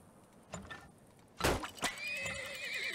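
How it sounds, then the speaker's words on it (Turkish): A horse neighs in the oil-drilling simulation game Turmoil, a loud whinny around the middle of the clip among soft game sounds and clicks, with a fainter tonal cry trailing after it. "Beygir."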